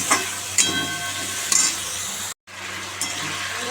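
An egg sizzles steadily in a frying pan with chopped tomato and green chili, a continuous close crackling hiss with a few sharp stirring scrapes against the pan.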